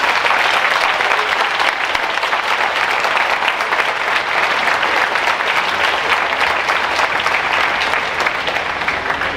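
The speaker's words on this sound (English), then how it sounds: "Let's give all these teams a big round of applause for their accomplishments." Sustained, dense applause from a large banquet audience at a NASA robotic mining competition awards event, steady and loud throughout with no break.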